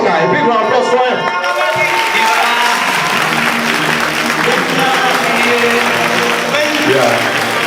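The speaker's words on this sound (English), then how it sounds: "A big round of applause for him." A comedy club audience applauds comedian Destalker after his introduction, steady dense clapping and crowd noise filling the room throughout, with voices mixed in.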